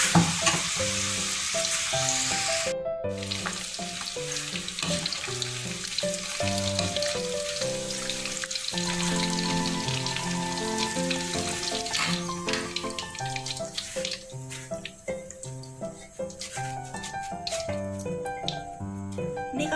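Chicken deep-frying in hot oil for a crisp, simple dinner, a steady, fairly loud sizzle running under melodic background music for the whole stretch.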